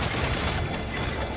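Ship cannon fire in the video game Assassin's Creed IV Freedom Cry, a dense, continuous rumble of blasts close by, with no clear gaps between shots.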